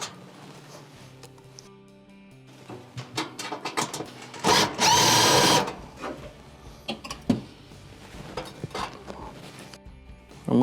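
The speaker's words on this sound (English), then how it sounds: "To remove your bake element, there are 2 screws," Phillips screws are removed from the bake element of a Whirlpool stove: close, irregular clicks and scrapes of a screwdriver on metal, with a loud, sustained rasp in the middle.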